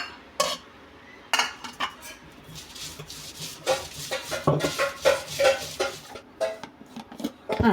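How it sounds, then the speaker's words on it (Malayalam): Turmeric powder and green chillies being crushed on a stone grinding slab in a home kitchen, a series of sharp knocks and scraping rubs of stone on stone, irregular and close, growing busier toward the end. "മഞ്ഞൾപ്പൊടിയും പച്ചമുളകും ചതയ്ക്കാൻ പോവുകയാണ്."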